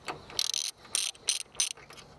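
A ratchet with a 17mm deep socket turns a bolt on a Mazda Miata, giving several short, crisp clicking bursts in an uneven rhythm, close and fairly quiet.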